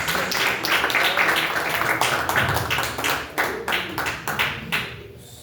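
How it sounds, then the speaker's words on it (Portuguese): A church congregation claps for Jesus, dense loud applause that thins toward the end into a handful of distinct, rhythmic claps spaced about half a second apart before fading. "E as palmas é para Jesus."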